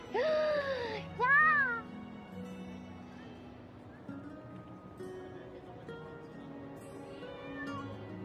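Cats meow loudly and close by indoors, two drawn-out calls in the first two seconds, then quieter domestic background noise with faint, scattered sounds.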